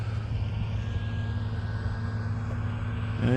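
An E-flite Pitts RC model airplane on a 3S 2200 battery flies outdoors, its electric motor a steady distant drone with a low rumble and faint whine, holding a fairly even level with a slight rise at the end.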